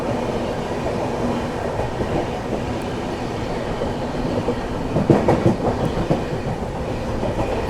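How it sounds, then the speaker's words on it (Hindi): Prayagraj Express passenger train running at high speed, a steady close rumble of wheels and carriages with rhythmic clacking over rail joints that grows busier and louder toward the end, no voices. "फिलहाल यहाँ पर अच्छी रफ्तार में दोस्तों अपनी प्रयागराज एक्सप्रेस ने जो है गोविंदपुर स्किप किया है"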